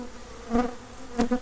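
Honey bees buzz at a hive in a steady hum, with two louder swells as individual bees pass close by.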